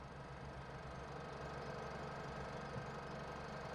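A transport tractor engine in Farming Simulator 17 hums as a steady, low mechanical drone, faint and unchanging, with no talk over it.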